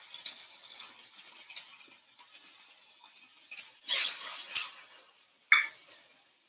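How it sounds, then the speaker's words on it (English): Onions and ginger sauté in a pan with soft, crackly sizzling and scattered stirring scrapes. Several sharper clicks stand out near the end. "And I want to saute my onions. The onions are going in here."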